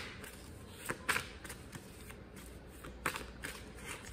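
Tarot cards being shuffled for a love reading, giving soft papery riffles with a few sharper card snaps near the start and again later, fairly quiet and heard without any talk.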